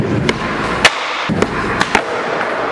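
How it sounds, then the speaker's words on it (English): Sharp, crackling bursts come from a skateboard exploding in a skateboarding video game, several loud pops in quick succession. "Explosion of skateboard."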